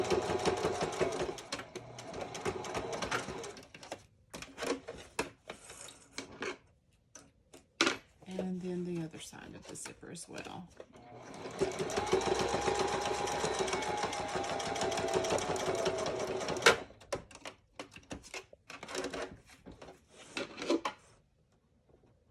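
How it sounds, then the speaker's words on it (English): A sewing machine stitches a zipper onto a tea towel project bag in bursts of fast, close rhythmic ticking, stopping and restarting between spoken instructions. "Let me stitch that end up."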